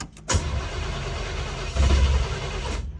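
A worn Chevy 350 V8 in a 1972 El Camino cranks and catches, then settles into a rough idle. Loud and close, it gets a brief surge of revs partway through.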